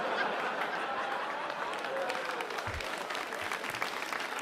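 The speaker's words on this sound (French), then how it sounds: "je sais pas pourquoi vous applaudissez" Applause from a live audience at a French stage show, a steady dense patter that fills the room with some crowd murmur and faint laughter mixed in, continuing without a break.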